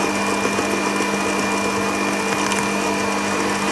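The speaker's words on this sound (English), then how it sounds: "So I'm going to add the flour with the mixer running" Electric mixer running steadily while flour is added to gingerbread dough, a loud continuous motor whir with a faint tonal hum and slight grinding texture throughout.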